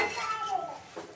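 Potato and egg curry stirred in a pan, a spoon scraping and clinking against the metal in a steady run of sounds, close and moderately loud, with no talking.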